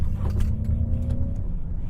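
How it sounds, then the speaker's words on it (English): Synthetic propulsion sound from a 2023 Ford F-150 Lightning electric truck accelerating: a steady low hum with a faint rising tone, heard briefly and alone. "you can turn on the propulsion sound."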